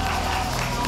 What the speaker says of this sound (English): Clap your hands and begin to pray.